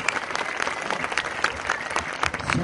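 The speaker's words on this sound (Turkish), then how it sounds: "kocaman bir alkış istiyoruz size" A crowd applauds steadily, with dense, sustained clapping throughout and no pauses.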